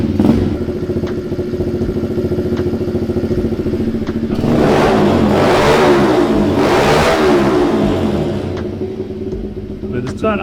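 M2R 90R pit bike engine idling after an electric start, then revving harder twice mid-clip under throttle before settling back to a steady idle; loud and close throughout.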